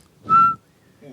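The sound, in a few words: person whistling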